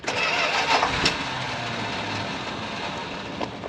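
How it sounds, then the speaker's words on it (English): A retired ambulance engine cranks and catches, then settles into a steady, close, loud idle rumble with a brief rise near the end. "let's see if she'll fire up real quick for me here"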